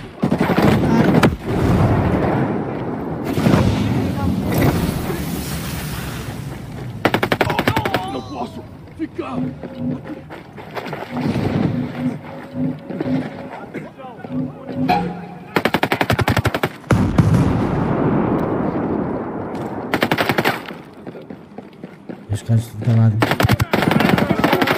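Bursts of rapid gunfire and sharp shots, including sniper fire, in a shooter video game, loud and repeated in clusters with pauses between, while players talk excitedly over the action.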